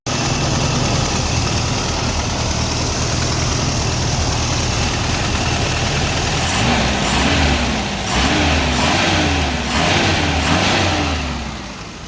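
Toyota Corolla KE70 GL engine fitted with a Proton carburetor, a loud, close, steady idle with a constant low rumble, then several short revs that rise and fall in the second half.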